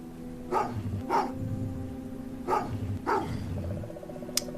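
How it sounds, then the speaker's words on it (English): Dog barking in Goosebumps: The Game video game, four loud evenly spaced barks over a low droning game soundtrack, with a faint high ping at the end. "That dog attacked as soon as you entered your neighborhood."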